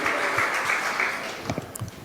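An audience at a formal gathering in Jakarta applauds, a dense wash of clapping running through the whole stretch, moderately loud and fairly distant, thinning into scattered claps near the end.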